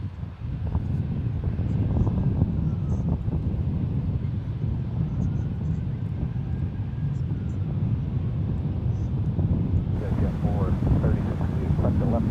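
An airplane on approach to land at San Francisco International Airport, a steady low engine roar with wind rumble that persists throughout, mixed with radio chatter and a person talking over it.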